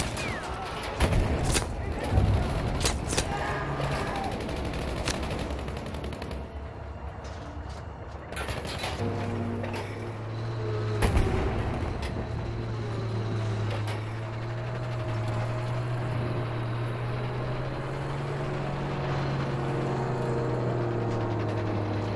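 Video game gunfire from Battlefield V bursts, cracks and echoes in the first seconds, then fades into a steady engine-like drone with occasional distant shots and low rumbling.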